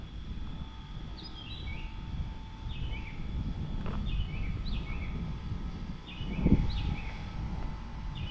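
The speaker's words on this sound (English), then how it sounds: "We got a night warbler." A bird sings at night in a Dallas neighbourhood, repeated short descending phrases coming every couple of seconds, faint and distant over a steady air-conditioning hum with a low rumble underneath.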